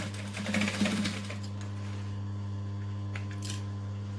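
A sewing machine runs steadily, stitching a clutch seam shut, with a constant motor hum and a faint ticking needle. A few small clicks of handling come near the end.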